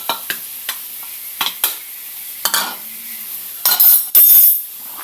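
Milkfish and a little pork sautéing in a pan with potatoes, intermittent stirring scrapes and clinks over a soft sizzle, ending in louder bursts of hissing frying near the close.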